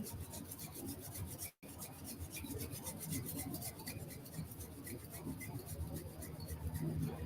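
Hands rub together in a steady, continuous dry rasp, close and quiet, with one brief break near the start, during a beginner's meditation session.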